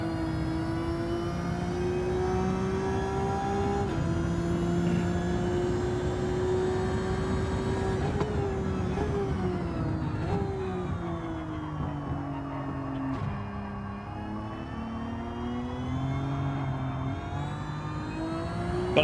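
Race car engine in Gran Turismo 7 drones loudly and steadily throughout, pitch rising and falling with gear changes and throttle lifts as the car is driven around a track.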